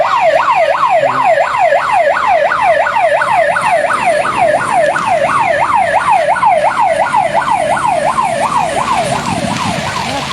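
Fire truck sirens wail in a fast, regular up-and-down sweep as engines arrive at a burning bus, loud and close with steady street noise underneath.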